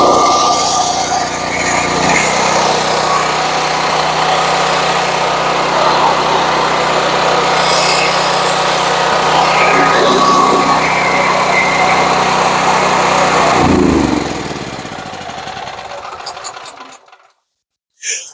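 A WEN 11000 watt dual fuel generator with electric start runs loudly nearby, a steady buzzing engine drone that holds for about fourteen seconds before winding down and going quiet.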